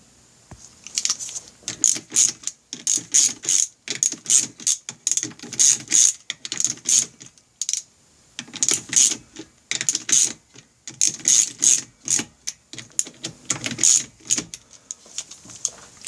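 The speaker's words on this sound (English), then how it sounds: "turn these bolts one a couple turns at a time until you get this completely seated" A ratchet tightens clutch cover bolts on a Honda Rebel 250 motorcycle, with rapid clicking bursts in repeated strokes, close and clear, separated by brief pauses.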